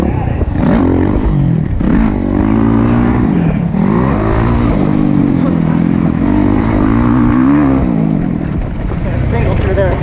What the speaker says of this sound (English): Throttle through there.